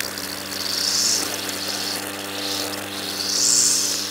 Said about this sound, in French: On entend au bruit du moteur.